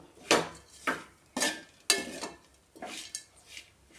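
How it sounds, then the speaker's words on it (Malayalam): Dried coconut chutney powder is stirred in a pan with a utensil, giving a series of about seven rhythmic scraping strokes, close and distinct, with short pauses between them. "കൈ വിടാതെ ഇളക്കി കൊടുക്കണം, അല്ലെങ്കിൽ പെട്ടെന്ന് കരിഞ്ഞു പോകും"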